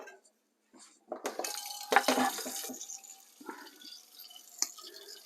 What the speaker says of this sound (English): now I'm going to put the water on for the udon noodles.